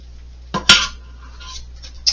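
A knife slices through tri-tip steak right in the pan, giving a couple of sharp metallic scrapes and clinks against the pan, close and clear in an otherwise quiet kitchen.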